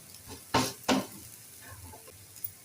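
Jowar flour thalipeeth roasting in an oiled pan, with two sharp scraping bursts from a spatula early on over a faint, low sizzle, close and brief, with no speech.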